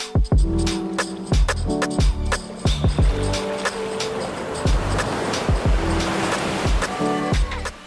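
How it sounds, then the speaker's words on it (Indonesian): Ocean waves break and wash onto the shallow beach at Toronipa near Kendari, a loud, continuous surf with repeated crashing surges close by. "puas menikmati deburan ombak"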